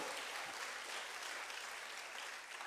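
Church congregation applauding for the Lord, a continuous wash of clapping heard from a distance, fairly faint and even throughout.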